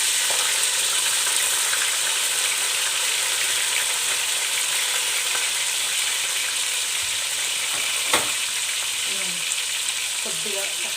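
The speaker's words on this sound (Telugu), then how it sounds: "కళాయి పెట్టి ఆయిల్ వేడెక్కిన తర్వాత ఇవ్వండి ఆనియన్ చిల్లీ అనేది నేను యాడ్ చేస్తున్నాను." Onion and chilli sizzle in hot oil in a kadai, cooked as the base for gongura chicken; a steady, loud frying hiss fills the whole stretch, with a stir or scrape near the end.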